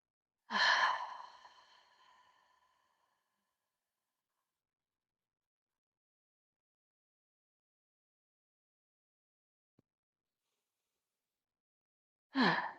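A deep breath drawn in through the nose and blown out in one long, loud exhale near the start, then quiet, with a second breath beginning at the very end, during an upper body mobility warm-up.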